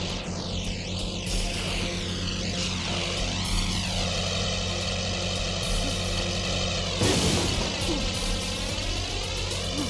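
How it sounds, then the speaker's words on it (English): An out-of-control plane in the video game Spider-Man 2: Enter Electro, a steady droning propeller engine with shifting pitch sweeps and a louder roaring burst near the end, over game background sound. "That plane's out of control."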